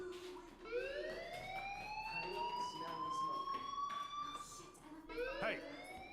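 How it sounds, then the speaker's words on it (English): Rising and falling siren-like alarm tone from Life is Strange, a fire alarm wailing steadily with sweeping pitch glides, fairly loud, continuing through the whole stretch with a fresh upward sweep near the end. "do you hear that fire alarm?"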